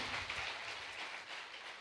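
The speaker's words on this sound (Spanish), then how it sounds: "denle un aplauso fuerte al Señor" A church congregation applauds for the Lord during a sermon, a steady wash of many hands clapping at a fairly quiet level, without much rise or fall.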